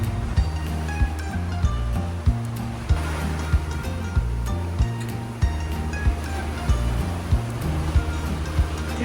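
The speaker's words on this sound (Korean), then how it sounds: "파도가 심하다." Rough sea waves off the Bahamas, heard while sailing, surge and churn continuously, with a low steady rumble and periodic bursts of water noise throughout.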